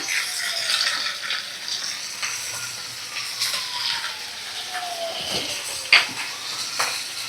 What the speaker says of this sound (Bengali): এবার কালো সর্ষে বাটা আমি দিয়ে দেবো এর মধ্যে।